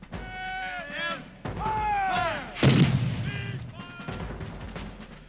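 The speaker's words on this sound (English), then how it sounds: "The local artillery fired a thunderous salute." Local artillery fires a thunderous salute for Washington's arrival at colonial Williamsburg: one loud, booming cannon blast in the middle, which rolls and fades under steady narration.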